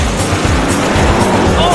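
A 1968 Chevy Nova races in a film street-racing scene, its engine giving a loud, steady roar with road noise that fills the whole moment.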